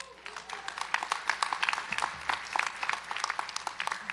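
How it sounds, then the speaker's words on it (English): A seated audience at a gala premiere honoring influential Filipinos gives a lively round of applause. The dense clapping is fairly close and continues throughout, with a faint murmur of crowd voices mixed in. "give yourselves a round of applause"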